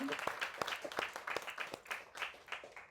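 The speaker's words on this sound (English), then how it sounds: "Let's give him a round of applause" An audience claps for a guest at a gathering, a brief burst of scattered, distinct handclaps at a moderate distance, fading toward the end. A voice may be faintly audible underneath.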